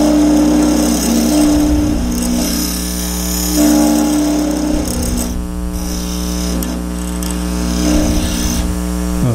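Wood lathe spinning as a scraper shapes a wooden acorn, a loud steady motor drone with the tool's rough scraping rising and falling in several passes.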